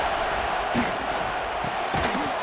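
Crowd noise in a Penn State versus Iowa football video game simulation swells into a steady stadium roar, with a couple of louder bursts of cheering rising above the constant wash.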